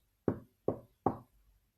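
Three firm, evenly spaced knocks on a wooden door, close and sharp with short decays, heard alone in a quiet setting.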